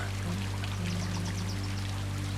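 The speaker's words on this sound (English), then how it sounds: "The low percussion of rain softens, now filtered through thick thatch and timber." Rain pattering softly on thick thatch and timber, a dense, steady wash of drops over a low constant hum, with no voices.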